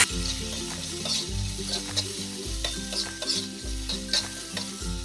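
Onion frying in a pan for green chilli thecha, with a pinch of salt added: steady close sizzle with regular rhythmic stirring scrapes about every second, no talk.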